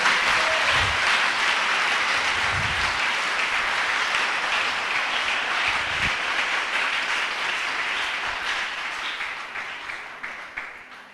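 Sustained applause from a church congregation, broad and crowded, with a few low thumps early on, gradually thinning and becoming more scattered near the close.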